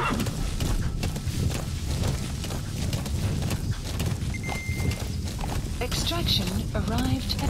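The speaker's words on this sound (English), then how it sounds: "Use your horse." Steady, dense hoofbeats of a galloping horse in Metal Gear Solid V: The Phantom Pain fill the clip, loud and continuous, with occasional voices and game sounds layered on top.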